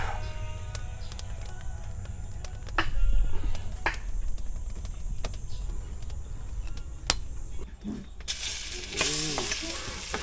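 Oil sizzles and crackles steadily, with clicks and the clatter of stirring utensils, then a brief louder hiss near the end.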